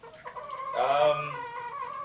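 A pet hen clucks close by, a short run of soft clucks rising into one louder drawn-out squawk, with no other sound around it.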